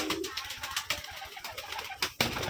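Pigeons kept in a home loft make soft, repeated cooing calls with some rustling and bird activity, moderately close and fairly steady across the short stretch.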